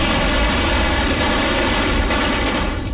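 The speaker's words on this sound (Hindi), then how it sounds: "हमने लगातार गोलियां चलने की आवाजें सुनी जो रेस्टोरेंट की तरफ चलाई जा रही थी।" Sustained gunfire is aimed at a restaurant in Mumbai, a dense, continuous rattle of shots that stays loud and unbroken throughout, with no voices.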